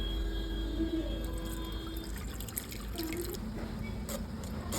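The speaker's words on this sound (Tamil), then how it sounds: "புளி நல்லா கரைச்சிக்கிட்டேன் இப்போ இதை வந்து வடிச்சுக்கலாம்" Dissolved tamarind water being strained into a bowl for chutney, giving soft trickling and dripping liquid sounds, close and fairly quiet, with a few light clinks toward the end.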